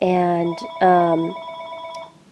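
A telephone rings loudly and close by with two bursts of its bell while a voice briefly speaks over it.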